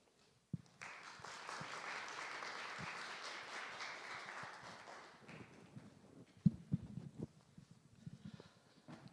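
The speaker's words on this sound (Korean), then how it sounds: "팀장님을 모실 때 큰 박수로 맞이해 주시기 바랍니다." Audience at a Korean startup briefing event giving a big welcoming round of applause to a KOICA team leader as he takes the stage, loud steady clapping for about five seconds that fades into scattered claps, shuffling and room noise.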